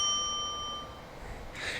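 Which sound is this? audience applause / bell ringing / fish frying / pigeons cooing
bell ringing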